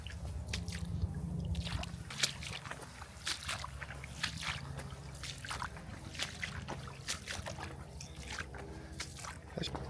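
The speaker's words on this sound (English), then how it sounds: "Actually, water is running. It's like a little bit of a river running through here." Small muddy stream of cold water running along a hiking trail near Branson, with soft close trickles and scattered drips over a low steady flow, no talk.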